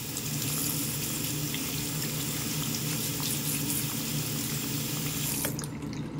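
Tap water runs steadily into a sink as clear plastic Invisalign aligner trays are rinsed, a constant close hiss of splashing water that cuts off abruptly near the end.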